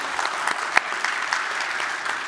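A congregation claps for the Lord during a worship service, steady dense applause filling the room with a few sharper individual claps standing out.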